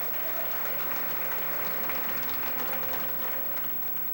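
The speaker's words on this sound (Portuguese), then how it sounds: "Toma o seu assento, aplaudindo a Jesus porque Ele é bom." A church congregation applauds at a Portuguese-language sermon, with dense, continuous clapping from a large crowd filling the room and tapering slightly at the end.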